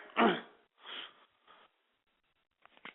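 A man gives a harsh, throaty cough followed by a weaker second rasp and a brief clearing sound, close to the microphone, then a few faint noises after a short silence.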